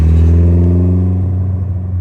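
A Nissan 180SX drives past close by, its engine a loud, steady low rumble with clattering harmonics that ease slightly as it moves on; no voices.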